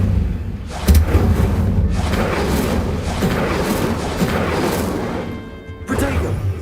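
Incendio fire spell cast in Hogwarts Legacy, a sudden whooshing burst followed by a loud, sustained roaring crackle of flame that fades out, then another burst begins.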